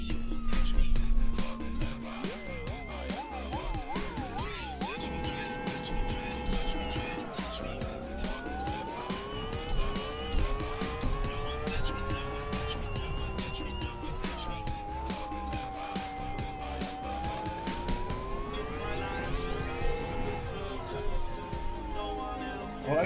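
BF1 Formula race car in Live for Speed, painted Ferrari red, lapping the Aston Cadet circuit: a high, sweeping engine whine rising and falling through gear changes for the whole stretch, loud and steady over game music.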